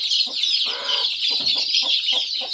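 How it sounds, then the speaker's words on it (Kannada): Native country hens cluck inside a poultry shed, a close, fairly loud run of short repeated clucks over a steady high hiss of background noise. "ನೋಡಿ ಹೊರಗಡೆ ಹೋಗುತ್ತೆ ಅದು ಕೋಳಿ"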